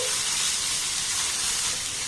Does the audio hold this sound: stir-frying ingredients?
yes